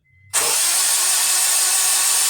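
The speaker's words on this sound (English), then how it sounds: "So now here, Moses, prime your engine." A turbocharged Honda K24 engine with a built block in an Acura RSX cranks over after a brief quiet moment to prime oil, a sudden loud, steady whirring that continues without a break.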